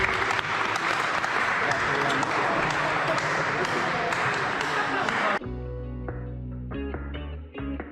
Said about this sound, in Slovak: takže potlesk